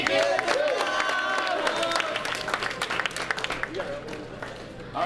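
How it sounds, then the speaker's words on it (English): Warm, sustained applause fills a crowded awards dinner for a high school football team, dense clapping mixed with some cheers and voices carrying over it, easing slightly toward the end. "Give her a round of applause, Ms."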